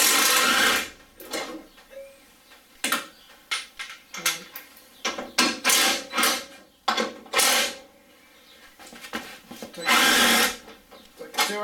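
Power tool or ratchet undoing 13 mm strut top nuts on a Ford Focus, loud whirring bursts in quick repeated spurts with short pauses, close up, with someone talking between them.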